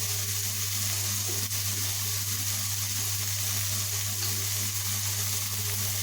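Chili powder and coriander powder frying in a pan make a loud, continuous close-up sizzle with a steady hiss, no voices over it.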